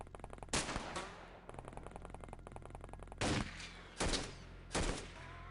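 Soldiers' gunfire in The XCOM Files: rapid automatic fire crackles steadily, broken by several sharper, louder bursts of shots, with no voices.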